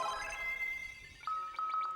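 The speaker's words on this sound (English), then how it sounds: "warp takes you up one floor and gives you a sound effect that I'm sure everybody wants to set as their ringtone now" A warp spell sound effect from the video game Final Fantasy IV Interlude plays, a shimmering electronic chime with a sustained tone followed by a series of quick repeated pulsing notes, fairly faint and with no talk.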